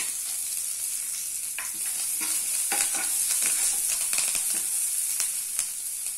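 Onion and curry leaves sizzle and crackle in hot oil in a pan, a steady hiss broken by sharp pops and stirring scrapes, close and continuous, with no talking.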